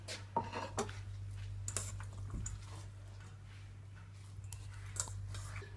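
Kofte ingredients of grated ginger, garlic, coriander and onions are stirred in a bowl with utensils. It sounds like scattered light clinks and scrapes, quiet and close, over a low steady hum.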